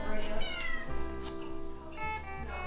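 A cat gives several short, fairly close meows over a low background hum, and people talk softly around it.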